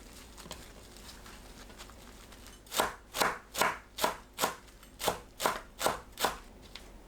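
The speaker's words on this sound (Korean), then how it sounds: "곱게 채 썰어주세요." A knife finely julienning perilla leaves on a cutting board gives about ten evenly spaced, crisp chops, close and fairly loud after a quiet start.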